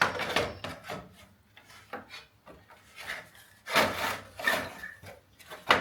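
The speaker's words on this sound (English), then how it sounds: "Now we're ready to slide in our fan assembly." SPAL electric fan assembly with plastic shroud sliding into place against the stock radiator of a Land Rover Discovery 2, a series of close scraping, rubbing knocks and shuffles in uneven bursts.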